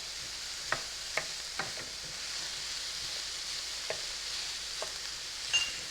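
Garlic and seasonings cooking in a pot for jambalaya, with an even background sizzle. Several distinct spoon scrapes and taps against the pan are spaced through it, and no one speaks.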